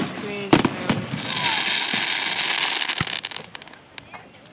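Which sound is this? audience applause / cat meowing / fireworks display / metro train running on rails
fireworks display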